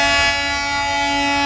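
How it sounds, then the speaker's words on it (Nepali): The Darjeeling toy train arriving at a station, sounding a loud, sustained horn blast that holds steady and close for the whole moment. "फाइनली ट्रेन आयो"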